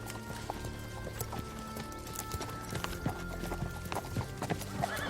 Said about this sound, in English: Now that we got his horse